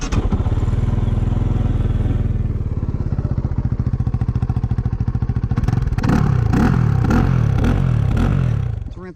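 A 2023 Kove FSE 450R Rally, a fuel-injected electric-start motorcycle, idles with a steady loud close thumping beat, then blips its throttle in several sharp revs toward the end.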